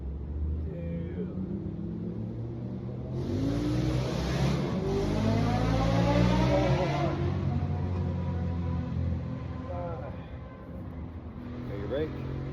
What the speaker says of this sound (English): thank the locals for that loud exhaust